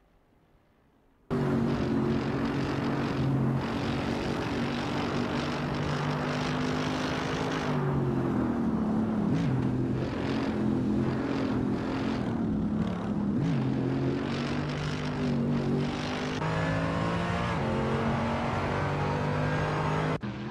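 In a racing video game, Mercedes AMG GT3 and other GT3 race cars roar at Paul Ricard during qualifying, a sustained loud engine drone with shifting pitch as cars pass, starting abruptly after a brief quiet moment.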